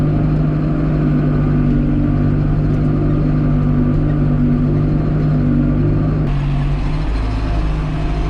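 A Valtra A85 tractor pulls a subsoiler through a field, its diesel engine droning loud and steady under load, with the throttle raised where the soil resists and a shift in pitch near the end.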